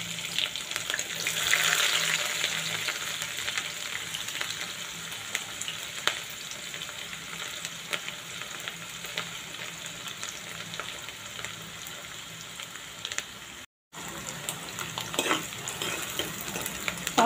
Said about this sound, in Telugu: ఆనియన్ గోల్డ్ కలర్ వచ్చే వరకు వేయించుకోవాలి